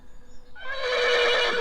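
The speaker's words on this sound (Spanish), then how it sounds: "Entonces los caballos se mostraron inquietos y olisquearon el aire." A restless horse lets out a single loud, close whinny after a moment of near silence, the shrill call rising and holding to the end with no voices over it.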